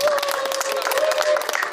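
Audience clapping after an ensemble's performance at a Yeosu-Suncheon uprising memorial cultural festival, uneven bursts of hands over a held tone, likely a voice or lingering instrument, moderately loud and close.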